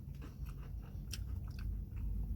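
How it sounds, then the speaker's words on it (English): Close, quiet crunching of cookie pieces in a Dairy Queen Frosted Animal Cookie Blizzard, eaten inside a car, with several small crisp bites over a soft steady background. "The cookies are nice and crunchy."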